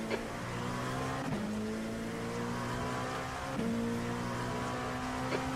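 Race car engines drone steadily in a sim racing game at the Nürburgring Grand-Prix circuit, with a faster car closing in and a sustained loud engine tone shifting pitch through gear changes.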